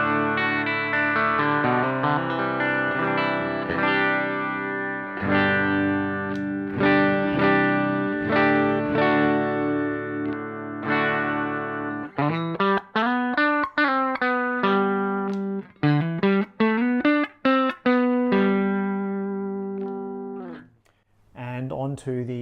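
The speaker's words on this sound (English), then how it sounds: "So our vintage cabinet sound." Electric guitar through the clean channel of a Mesa Transatlantic amp into a vintage cabinet, first sustained strummed chords, then a busier run of picked single notes and arpeggios, close and steady before a brief drop near the end.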